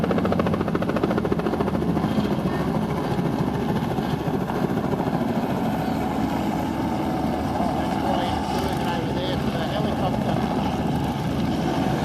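A helicopter runs at a drag racing track at The Bend, producing a continuous rumbling engine and rotor drone that holds steady at moderate distance throughout, with voices faintly mixed in.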